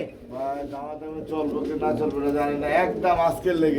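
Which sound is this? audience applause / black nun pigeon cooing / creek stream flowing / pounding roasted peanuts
black nun pigeon cooing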